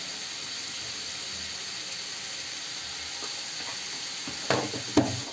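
Red chili, turmeric, coriander and garam masala spices frying in a pan for an aloo gobi matar dish, a steady soft sizzle with a couple of stirring clatters near the end.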